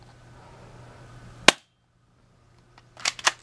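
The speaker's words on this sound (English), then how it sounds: "Pretty quick little spring airsoft gun. Let's take a few more shots." A spring airsoft gun fired up close, giving one sharp isolated snap, then after a pause a quick cluster of two or three more cracks, with no talk.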